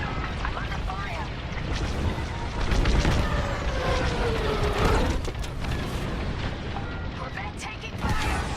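Blaster fire and explosions rumble through a Star Wars: Squadrons space battle attacking a battle station, dense booms and weapon shots with engine whine, under radio-style voices.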